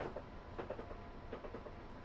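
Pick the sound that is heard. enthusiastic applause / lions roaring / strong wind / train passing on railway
train passing on railway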